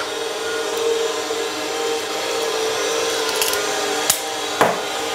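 Cardamom seeds and a few cloves are ground for a Christmas stollen with candied fruit and marzipan. A continuous gritty rubbing and crunching carries on throughout, with a couple of sharp knocks toward the end.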